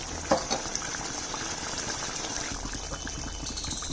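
A fish curry simmers in a pan after salt goes in, giving a steady, close bubbling and watery hiss throughout, with a couple of faint clicks near the start and no speech.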